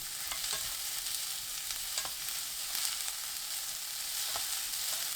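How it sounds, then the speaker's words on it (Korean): Steady sizzling of celery stir-frying in hot oil with minced garlic over medium heat, with occasional stirring clicks and scrapes, close and continuous throughout. "지글지글 소리 나면 바로 샐러리 넣고 중간 불로 2분 볶아주세요"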